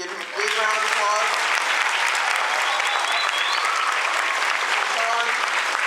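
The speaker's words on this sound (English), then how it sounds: "Give him a big round of applause." Steady, dense applause from an audience at a middle school honor society ceremony, close and continuous for several seconds with a few voices mixed in.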